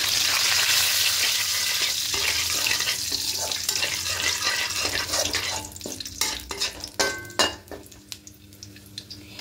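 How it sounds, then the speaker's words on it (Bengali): Whole spices (cinnamon, cardamom, cloves and bay leaves) dropped into hot oil for a vegetarian potato and pointed gourd curry, a loud sizzle that gradually settles into crackling pops and stirring clatter, close up with no talk. "এবার এখানে দেবো গোটা গরম মশলা, দারুচিনি, এলাচ, লবঙ্গ আর তেজপাতা।"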